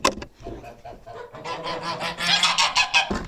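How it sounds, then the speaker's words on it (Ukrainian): A flock of geese honks loudly and repeatedly, the calls growing busier and overlapping before stopping abruptly near the end. "Зараз вижену гусей."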